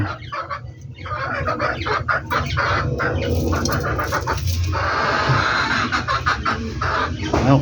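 Domestic chickens, including a hen and a young chick, cluck and chirp continuously and close by, with busy, overlapping calls and no talking.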